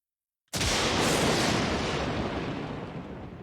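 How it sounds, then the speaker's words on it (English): A sudden loud, heavy boom in the game Stormworks: Build and Rescue bursts in and rolls on as a broad, roaring rumble that slowly fades, like cannon fire. "Oh, it literally sounds like cannon fire."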